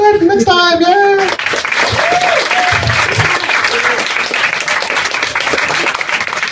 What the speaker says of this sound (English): Another applause for Socrates.